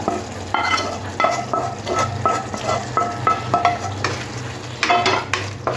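Onion, green chilli and tomato stir-fried with cooked-down spices for okra do piyaza, a loud close sizzle with a quick regular rhythm of spatula strokes scraping and tapping the pan.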